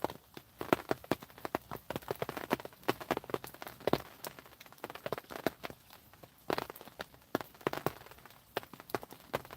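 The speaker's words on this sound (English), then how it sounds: "I love the sound of the rain on the bivvy." Irregular drops patter and tap close by on the taut surface of a carp-fishing bivvy, a busy, uneven crackle of rain with no talking.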